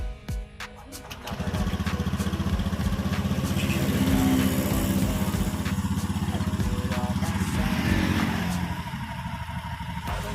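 An automatic scooter engine idles smoothly and steadily, its low even drone holding close and fairly loud for most of the stretch, with a light clatter and faint background music above it.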